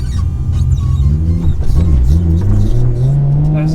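A big-turbo Nissan R34 Skyline making about 910 bhp revs loudly and close by, its engine note rising and falling in repeated surges over a steady rumbling idle.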